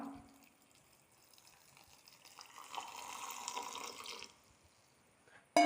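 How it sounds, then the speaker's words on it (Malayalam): Water is poured onto leftover rice before grinding it into batter, a short, soft splashing pour of about a second and a half near the middle, close by in a quiet kitchen. "ഇനി ഇതിലേക്ക് കുറച്ച് വെള്ളം ഒഴിച്ചു കൊടുക്കാം"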